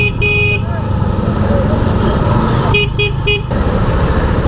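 Horns honk in a Gujranwala traffic jam heard from a Honda CB150F motorcycle, one long blast early then three short toots later, over constant loud engine and road rumble with wind noise.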